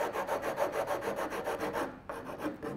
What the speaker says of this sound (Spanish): ¿qué te parece si le das una lijadita en los cantos?